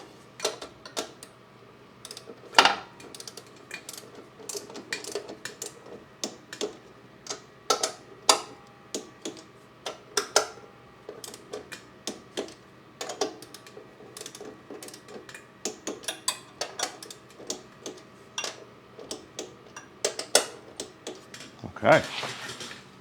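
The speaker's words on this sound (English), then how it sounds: "Don't normally use a torque wrench for this stuff, but I will for everyone else's benefit" Fasteners on the carburetor of a Briggs & Stratton Vanguard 18 HP engine being tightened with a torque wrench, a quiet run of irregular ratcheting clicks and metallic ticks, close up, with occasional louder clacks and a little background noise.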